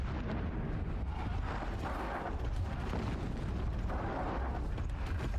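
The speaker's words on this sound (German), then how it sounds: "Explosion." Explosion in Horizon Zero Dawn, a steady roaring wall of booming blasts and crackling bursts lasting several seconds, fairly distant and even in level, with no talking over it.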